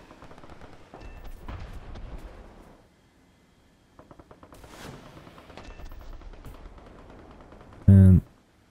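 Bursts of aircraft cannon and anti-aircraft fire rattle in the combat flight game War Thunder, with several rapid volleys spread across the moment and one sharp, loud blast near the end, partly under a speaking voice.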